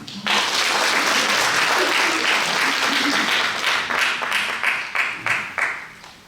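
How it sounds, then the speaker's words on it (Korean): Congregation at the opening worship service of a Seoul regional presbytery council's general assembly applauds loudly and continuously, with individual claps becoming more distinct as the applause tapers off toward the end. "박수 한번 쳐주시죠"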